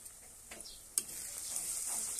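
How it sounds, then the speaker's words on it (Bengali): Cumin, coriander and turmeric powders are sautéed in oil in a pan for chicken curry: a soft sizzle under a few scraping stir strokes, one sharper clatter near the start, quiet and close. "দেখুন ভালোভাবে কষছি"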